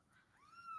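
A cat gives a single short, rising meow, quiet but distinct and near, at the end of an otherwise hushed moment.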